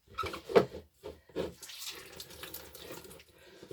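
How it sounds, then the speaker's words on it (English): Bursts of water splashing and dripping as soaked cardboard is squeezed by hand, a few wet gushes followed by quieter trickling, close by. "just squeeze out as much of that water as you can"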